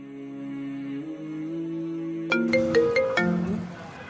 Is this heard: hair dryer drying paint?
no